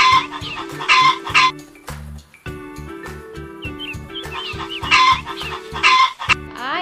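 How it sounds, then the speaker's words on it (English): A hen clucks in repeated bursts over a steady children's alphabet song tune, the clucks coming in short clusters, fairly close and clear. "H is for hen"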